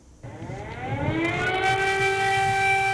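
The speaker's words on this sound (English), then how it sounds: "Air raid sirens becoming a part of everyday life in the Ukrainian capital of Kyiv." An air raid siren in Kyiv, Ukraine winds up from silence and holds a loud, steady wail, clear and alone with no voices.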